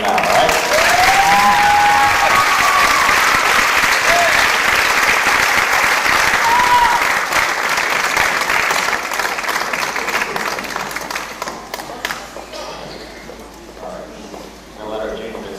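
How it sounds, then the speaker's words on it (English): A crowd at a small-town festival pageant applauds steadily and loudly as contestants come out, the clapping thinning toward the end, with a voice speaking over it. "give them a big round of applause as they come out"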